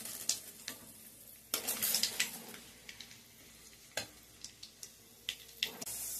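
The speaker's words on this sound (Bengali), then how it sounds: "সেই জন্য কালো জিরে ফোড়ন দিচ্ছি। এখানে দিয়ে দিচ্ছি 2টো তেজপাতা।" Black cumin seeds and two bay leaves spitting in hot oil for a taro stolon and prawn curry, with a soft steady sizzle broken by sharp crackling pops, one loud burst near the middle.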